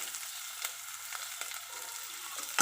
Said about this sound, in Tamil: வெங்காயம் போட்டு இப்படி வதக்கிக்கோங்க